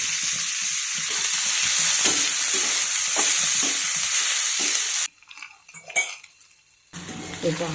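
Onion and green chilli sauté over a full gas flame, giving a loud, dense, continuous sizzle with stirring scrapes for about five seconds. It then drops to quieter pan and utensil clatter.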